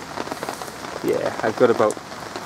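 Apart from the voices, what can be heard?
rain falling on a lake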